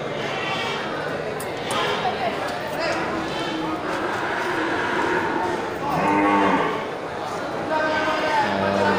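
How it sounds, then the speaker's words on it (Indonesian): Young male feeder cattle moo in long, low calls nearby, with a person talking over a steady farmyard background. "Ya, mantap ini sapinya."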